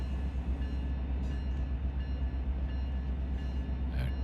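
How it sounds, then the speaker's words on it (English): Freight train with three engines pulling in Run 8 Train Simulator III, a steady loud low diesel rumble with constant rail noise and a faint horn-like tone near the end. "We got 3 engines pulling here on the train we got right now."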